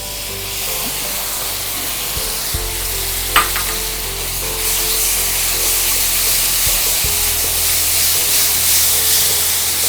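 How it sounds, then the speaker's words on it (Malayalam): Yogurt going into frying masala in a pan brings a steady broadband sizzle that swells louder partway through, with a few soft stirring clicks and no voices. "ഇനി ഇതിലേക്ക് തൈര് ചേർക്കുന്നു."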